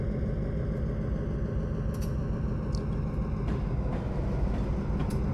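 A train being driven in the video game Train Simulator 2020, a steady low rumble of engine and rolling wagons with a few faint clicks and squeaks, no talk.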